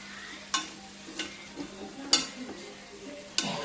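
Potato curry stirred in a pan: a spoon scrapes and knocks against the pan in several distinct strokes about a second apart, over a faint steady sizzle, close and moderately quiet.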